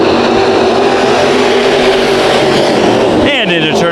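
Sport modified race cars roar around Bakersfield Speedway in a loud, continuous engine drone, with a sharp rising rev near the end and a track announcer talking over it.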